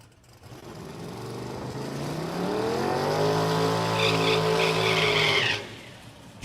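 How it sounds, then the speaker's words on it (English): Drag racing car launching down the strip at a motorplex, a loud rising engine roar that climbs in pitch over several seconds and then cuts off abruptly, heard alone. "Jeff Hunt getting the by run in the little yellow S10 over here in the left lane"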